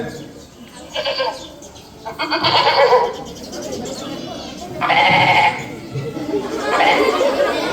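A goat bleats several times, loud and close, in a primary school classroom, with children chattering around and between the calls.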